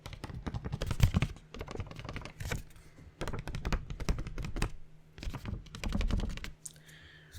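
A small paper index card is tapped and handled close to the microphone for ASMR, making clusters of soft, dry clicks and flicks in quick bursts separated by short pauses.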